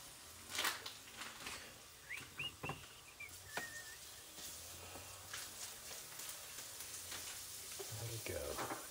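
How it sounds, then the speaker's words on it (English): Fresh minced garlic sautes in a pan of oil, giving a soft, steady sizzle with faint scattered pops and clicks of utensils close by. "Fresh minced garlic. Let it saute it in that oil."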